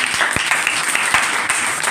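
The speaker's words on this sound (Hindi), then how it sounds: "इनके लिए जोरदार तालियां हो जाए" Audience applause at a ceremony honouring Bihar intermediate exam toppers, dense steady clapping filling the short stretch, loud and close, with faint voices underneath.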